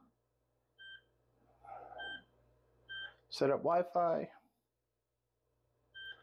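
Control panel button beeps on a GE One and Done ventless heat pump washer dryer combo: several short, clean electronic beeps spaced apart, with a person speaking briefly in the middle.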